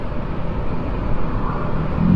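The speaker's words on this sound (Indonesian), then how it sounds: "Malam hari cukup ramai juga ini, banyak mobil-mobil, banyak truk-truk gini." Night traffic of cars and trucks on the main road through Wonogiri in light drizzle, a steady low rumble of passing vehicles, moderately loud and continuous, with no distinct single pass.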